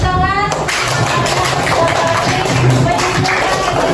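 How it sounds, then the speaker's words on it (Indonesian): Students in a classroom applaud together, a dense, close patter of clapping hands lasting several seconds with faint voices mixed in. "Beri tepuk tangan."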